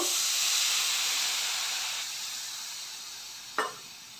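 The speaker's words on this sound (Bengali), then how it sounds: "প্যানে আবার জল দিয়ে দেব" Water added to a hot pan while making butter naan gives off a loud, steady steam hiss that slowly fades, with a short sharp burst near the end.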